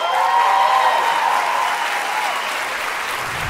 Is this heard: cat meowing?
no